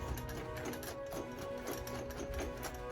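A Singer 20U style sewing machine stitches embroidery at a quick, steady pace, its needle mechanism clattering in a rapid regular rhythm with a faint whirring motor underneath, close and moderately loud.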